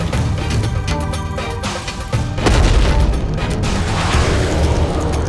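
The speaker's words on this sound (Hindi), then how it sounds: "ये कैसा विस्फोट हुआ वहां पर?" A heavy booming explosion effect from a Hindi mythological TV drama, a deep rumbling blast that swells midway and then sustains as a loud roar, with crackling debris and no voices.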